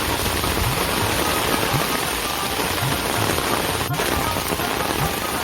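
Heavy rain pours during a storm in a village, a loud, dense and unbroken hiss with scattered drips and patters close by, and no one speaking.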